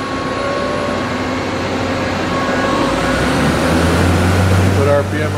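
A FEMCO HL 35 CNC lathe spindle runs with a steady loud machine hum and whine, a rising tonal pitch near the end, while people talk nearby.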